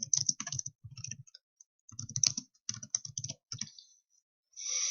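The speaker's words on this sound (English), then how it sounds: "you can type in the name of a quiz that you want" Bursts of typing on a computer keyboard, quick clusters of clicking keystrokes with short pauses between, close and clear, ending in a louder run of rapid key presses.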